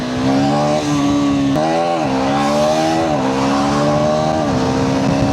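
A KTM Adventure 390 X motorcycle accelerates hard, its engine note climbing steadily with brief dips at gear changes, loud and close with a steady rushing wind.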